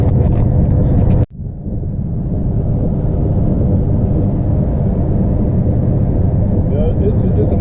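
A 1969 Pontiac GTO Judge convertible cruises along Route 66 in Arizona, its engine a steady loud low rumble with a brief cut near the start before the drone resumes, road and wind noise mixed in.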